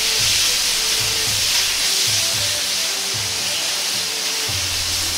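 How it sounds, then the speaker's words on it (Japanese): Steady loud sizzling hiss of pork stir-frying in a hot pan, spread out with chopsticks, with faint intermittent scraping and clinking under the constant frying noise. "豚肉を箸などを使い、鍋に広げるようにして焼きながら炒めていきます"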